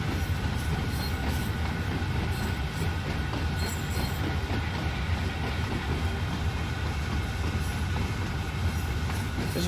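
A big train rolls steadily past in a dry, snowy landscape near a wagon wheel workshop, a loud continuous rumble of railcars and wheels on track with faint high squeals, filling the whole stretch without talk.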